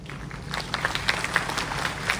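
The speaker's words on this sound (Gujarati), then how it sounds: "જોરદાર તાળી" A live audience at a charity event applauds, with clapping heard close and steady throughout the short moment. No one speaks over it.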